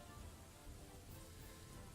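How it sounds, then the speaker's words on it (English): Steady rain falls in the Dwarf Fortress video game, a soft continuous patter of drops on surfaces with no let-up, faint and even throughout with no voices. "It never stops raining here."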